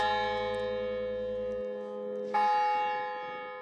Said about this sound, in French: Ah, c'est une belle cloche, hein.